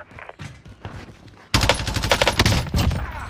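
Rapid bursts of LAPA submachine gun fire in Warzone open after a quieter stretch, loud and close, with dense crackling shots running continuously to the end.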